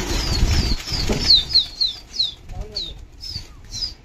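Repeated wingbeat flaps burst out in quick succession as pigeons take off nearby, loud and fluttering, followed by a few softer flaps.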